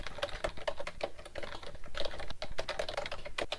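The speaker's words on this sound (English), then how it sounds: "I'll just try making some changes to the spreadsheet by typing in some information" Rapid typing on a computer keyboard while data is entered into a LibreOffice Calc spreadsheet, a steady close patter of light key clicks with irregular rhythm and no talking.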